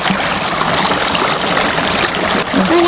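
Steady rushing of a flowing stream, loud and close, a constant broadband wash of water with no voices over it.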